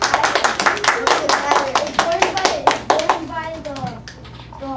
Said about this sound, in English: Round of applause for Esmeralda.